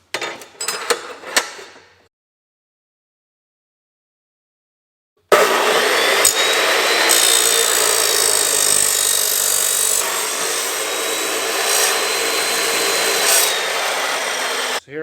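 An aluminum intercooler pipe for a 1967 Ford F-250 Cummins swap being cut with a power tool. A few short knocks come first, then silence, then a loud, steady abrasive grinding drone that runs to the end.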